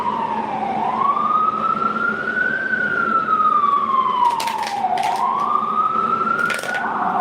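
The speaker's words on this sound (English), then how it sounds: "You hear them sirens?" A wailing siren rises and falls steadily, loud and fairly close, with traffic rumble underneath and a few brief clicks.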